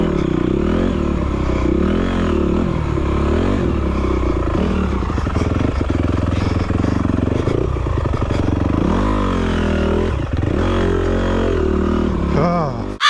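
An enduro dirt bike races through deeply rutted mud on a wooded race course, its loud engine revving and bogging continuously up close, with clattering and scraping from the bike as it fights the ruts.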